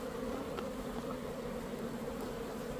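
Honeybees buzz steadily around a beehive, a continuous low droning hum of many insects close by, with no talk.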